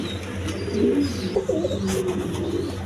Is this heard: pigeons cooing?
yes